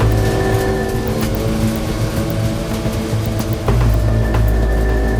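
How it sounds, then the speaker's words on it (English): A Subaru rally car at the Oregon Trail Rally, driving a loose gravel stage, with a loud, continuous engine drone that shifts pitch midway as it keeps running, heard close and with no talk. "The 75 Subaru sets off at a disadvantage."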